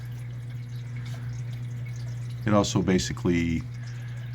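Water trickles and drips steadily through a homemade aquarium sump setup acting as a Matten filter, a continuous soft flow under a low pump hum, with someone briefly speaking over it.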